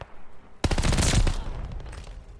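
Gunfire in Call of Duty: Vanguard, a sudden loud close burst of rapid shots that fades into a trailing rattle.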